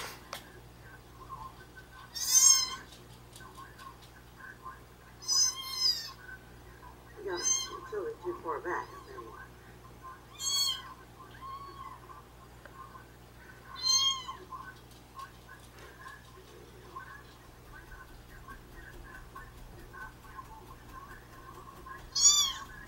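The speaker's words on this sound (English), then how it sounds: "where the heck is that kitten?" A kitten meows several times in short, high cries spaced a few seconds apart, fairly close. A low steady hum runs underneath, and a brief murmur of other sound sits in the middle.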